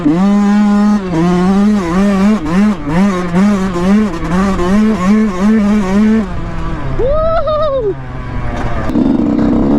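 A Yamaha YZ125 two-stroke dirt bike rides through a sand section, its engine loud and close with rapid, pulsing revs rising and falling, then a sharp rev climbing and easing off near the end.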